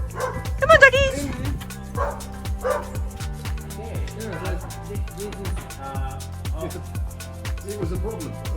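A few dogs bark in sharp, excited yips and short woofs, loudest near the start and then scattered, while people talk and greet each other throughout.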